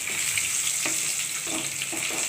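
Fish pieces frying in hot oil, a dense continuous sizzle with a few soft knocks of a utensil, close and steady throughout without talk.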